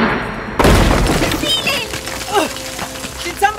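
Gunfire erupts in a science-fiction audio drama: an abrupt, loud burst of shots and blasts rings out amid shouting voices and chaotic battle noise, settling into scattered cracks and clatter.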